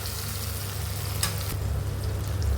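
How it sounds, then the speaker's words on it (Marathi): Ginger-garlic paste sautéing in a pan with brinjal and spinach for a Marathi vegetable dish, a continuous close sizzle with a brief stirring scrape midway, steady throughout, no talking. "अर्धा चमचा आलं लसणाची पेस्ट, याला आपण परतून घेऊयात व्यवस्थित"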